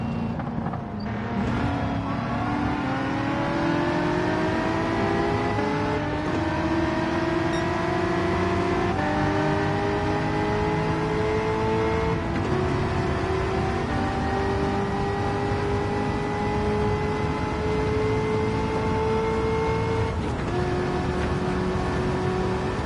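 A high-revving race car engine in Gran Turismo 7 drones continuously, pitch climbing steadily then dropping sharply at each gear shift, repeating several times.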